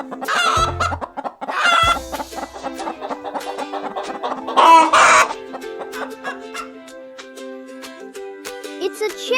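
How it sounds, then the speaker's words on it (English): A chicken clucks in quick, choppy bursts close by, with a rooster's crowing call rising briefly in the middle, over a steady low beat and light background noise. "It's a chicken."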